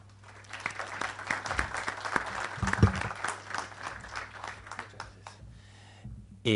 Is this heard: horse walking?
no